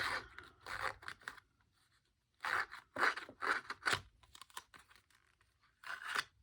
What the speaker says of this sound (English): So I'm going to get my little tool and rough up the edges.